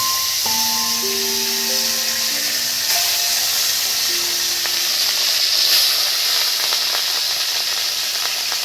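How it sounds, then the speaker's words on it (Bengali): Pieces of rui fish hiss and sizzle loudly in hot oil, a dense continuous fry with sharp crackles, and a few faint steady tones sounding underneath near the start. "বন্ধুরা এবার তেলের মধ্যে দিয়ে দিচ্ছি দেখুন"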